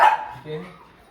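A single short dog bark sounds at a family home, sharp at the start and then trailing off quickly.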